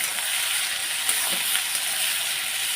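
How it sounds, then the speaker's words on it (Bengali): Spices and cumin powder sizzle steadily in a hot pan as they are stirred, a close, continuous frying hiss with faint scraping of the spoon. "একটু নাড়াচাড়া দিয়ে দিই"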